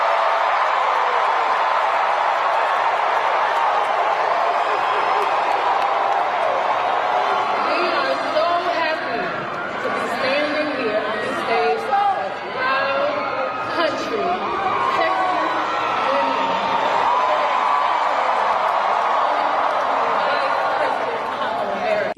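A large crowd at a rally in Houston fills the space with a steady wash of cheering, chatter and whoops, with a voice speaking over the din.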